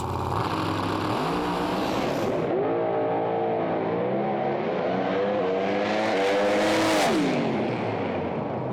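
A Mustang drag race car pulls away hard down the strip, its engine roaring loud and close with rising harmonic sweeps as it lifts off and gets back on the throttle, surging to a peak near the end.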